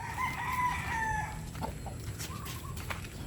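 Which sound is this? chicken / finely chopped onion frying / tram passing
chicken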